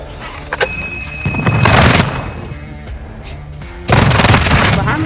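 Call of Duty Modern Warfare 2 gunfire: a sharp early shot, then two loud sustained bursts of rapid automatic fire separated by a quieter stretch, close and dominant, with a brief voice in between.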